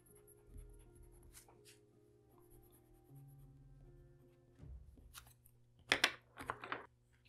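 Pencil crayon colouring on paper gives faint, soft scratchy strokes that grow into louder, brisk rubbing bursts toward the end, over a quiet background hum.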